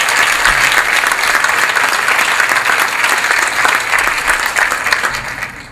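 Loud, sustained audience applause for a CEO of the year at a business roundtable awards event, thick crowd clapping that stays full throughout and tapers slightly at the end.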